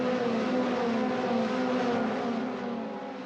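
Euroformula Open single-seater race cars at Mugello, Italy: a loud, sustained high-revving engine whine that holds steady and then eases slightly as the car pulls away.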